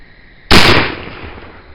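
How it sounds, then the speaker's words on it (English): A single loud, sharp shot from a Traditions Trapper muzzleloading pistol cracks close by, then decays into a short rumbling tail, with quiet before it. "So, I'll try a few more shots just to make sure we're on here."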